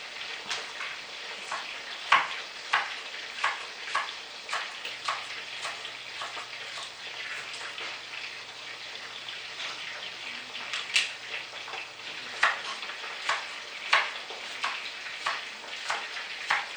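Lobster balls frying in oil, a continuous crackling sizzle with sharper pops at irregular moments, close and moderate, with no voices.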